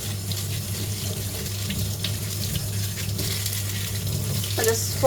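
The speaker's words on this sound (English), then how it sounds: "Wash it in running water." Lemongrass being rinsed under a running kitchen tap, a steady stream of water splashing into a sink with a faint low hum beneath it, continuous and fairly close, with a brief clatter near the end.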